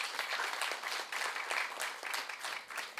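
Audience applause greeting a guest at a seminar on cyber crime against women, a soft, even patter of many hands clapping at a distance, steady for the whole stretch.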